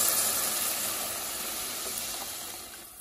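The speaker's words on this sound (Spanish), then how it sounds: "ahora voy a agregar la salsa" Blended red salsa poured into a hot pan of cooked onions for chicharrones en salsa roja, giving a loud, steady broadband sizzle and hiss that fades slightly over a few seconds, with no talking.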